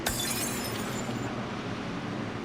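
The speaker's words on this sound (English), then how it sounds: "You already heard the glass break right there." Glass shatters in a truck racing video game at Richmond Raceway, a loud crash and scattering tinkle at the start that trails into dense, steady engine and crowd noise.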